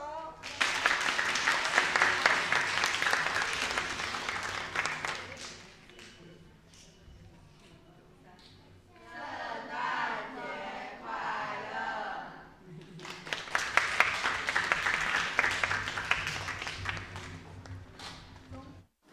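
A church congregation applauds in two long, dense bursts of clapping, with a stretch of voices and crowd noise between them in the middle.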